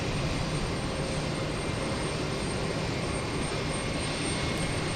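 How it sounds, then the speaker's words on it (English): A Viva Aerobus Airbus A320 jet takes off from Houston Intercontinental, its engines making a loud, unbroken roar of broadband rushing noise that holds steady across the whole stretch. "I think we've got Viva Aerobus about to take off to Monterey, an Airbus A320"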